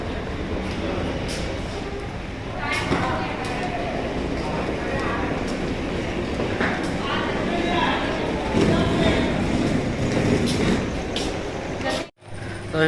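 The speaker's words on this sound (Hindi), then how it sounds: "और ये है उछलापुर रेलवे स्टेशन।" Ambience at Uchhlapur railway station: a steady, dense wash of crowd murmur, distant vehicle and train noise, and occasional faint horn toots. A loud bump comes near the end.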